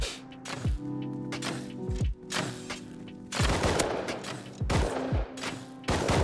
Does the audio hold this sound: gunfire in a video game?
yes